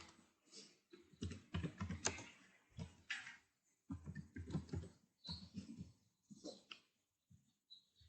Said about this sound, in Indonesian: Kemudian kita ketik bagian operator.